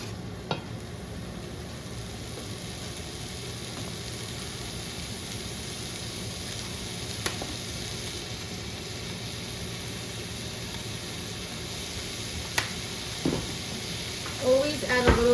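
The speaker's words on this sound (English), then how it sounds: "So I'm just going to saute this on about a low setting." Vegetables sauté gently over low heat in a pan, giving a soft, even hiss of sizzling that stays steady, broken only by a few faint clicks and clinks near the end.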